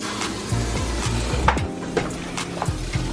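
Noodles being stirred into a cheese sauce for baked mac and cheese, with a spoon scraping and thudding against the pot in irregular knocks over a steady background hum, close and moderately loud.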